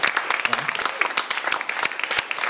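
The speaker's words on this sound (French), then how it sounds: "il faudrait les applaudir hein," An audience applauds at a startup pitch presentation, a dense patter of claps running steadily through the moment with a murmur of voices underneath.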